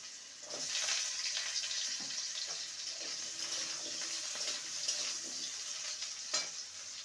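Small medium-sized potato pieces fry in hot oil, a steady soft sizzle with occasional stirring scrapes, close by and alone.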